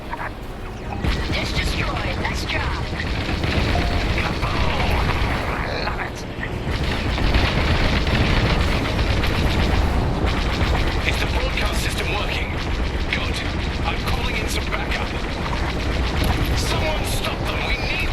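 Heavy rumbling blasts and crackling weapon fire in Star Wars: Squadrons as a dish is destroyed, loud and continuous with deep booms and mechanical whooshes, while a voice speaks over the battle.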